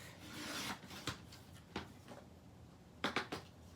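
Scissors or a blade cutting a sheet of patterned paper down to a 3.5-inch pocket for a junk journal: a long rasping stroke, then a few short, sharp snips and rubs, close and quiet.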